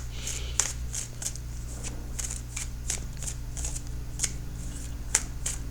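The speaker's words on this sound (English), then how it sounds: "now I'm going to shuffle for that outcome card" Tarot cards being shuffled by hand, a steady series of soft riffling flicks and taps at close range over a low background hum, no speech.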